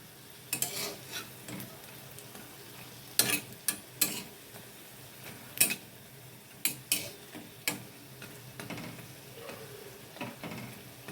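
Hinche shak fritters (bora) fry gently in oil over a low flame, a steady soft sizzle punctuated by irregular sharp clicks and taps from stirring, close and without talk.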